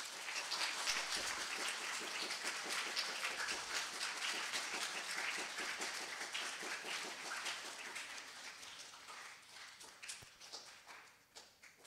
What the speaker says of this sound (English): Could we also give one final round of applause to our award winners?